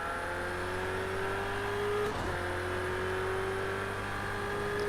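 Race car engines on the final lap drone steadily at a distance, a continuous whirring hum with a faint rising pitch and a brief dip in the middle.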